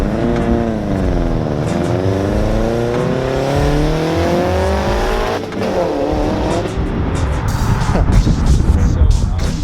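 A built Subaru WRX making over 400 hp with a big turbo, external wastegate and front-mount intercooler sweeps past loudly, its engine note rising and falling as it accelerates through the gears, with a voice faintly audible under the noise.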